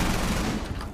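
Gunfire rattles in a round of Rainbow Six Siege, a loud, dense burst of shots close by that tapers slightly within a second.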